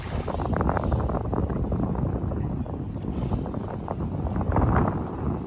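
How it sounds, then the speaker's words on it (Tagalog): Steady wind gusting and rushing across an open microphone outdoors, a broad continuous roar that swells slightly near the end. "buti naman humangin"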